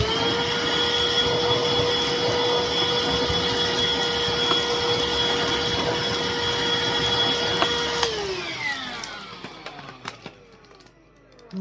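Miele Blizzard CX1 vacuum cleaner running steadily with a loud, even motor whine and airflow roar, then winding down and spinning to a stop near the end.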